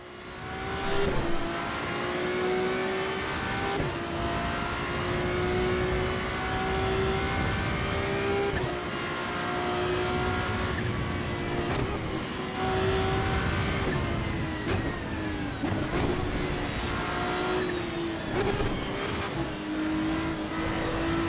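Race cars in Assetto Corsa EVO roar side by side during an overtake, a loud continuous engine drone with rising and falling pitch as revs change across gear shifts, sustained throughout with no talk.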